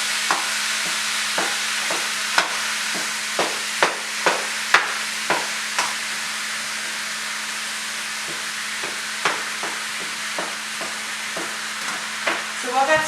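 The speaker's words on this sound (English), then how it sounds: "Just break it up so it can get some surface browning." Ground hamburger meat browning in a hot pan with no added oil, sizzling steadily while a utensil breaks it up with repeated clicking scrapes and taps; no one speaks.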